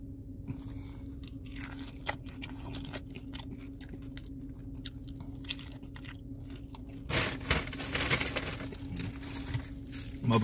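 Someone eating a Taco Bell Mexican pizza topped with sauce, with steady close crunching and chewing continuing throughout, getting a little louder and denser toward the end.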